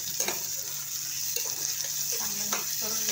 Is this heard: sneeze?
no